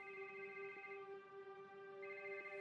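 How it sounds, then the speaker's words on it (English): A telephone rings softly in a quiet room, a steady electronic warble that holds on, thins briefly, then swells again, with no voices over it. "When the phone finally rang, Maricela jumped to answer it"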